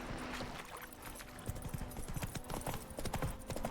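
Horse hooves clip-clopping at a steady gallop in the video game The Witcher 3: Wild Hunt, a continuous rhythmic patter of hoofbeats under soft ambient game sound, moderately near.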